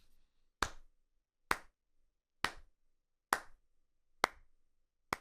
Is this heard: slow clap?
yes